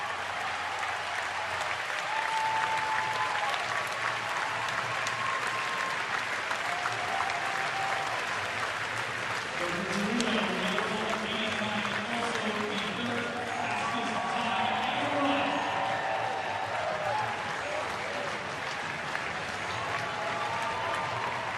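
Stadium crowd at Hayward Field applauding and cheering after a women's 3000m steeplechase meet record at the Prefontaine Classic Diamond League meet, a steady roar of clapping that swells midway, with a commentator talking over it.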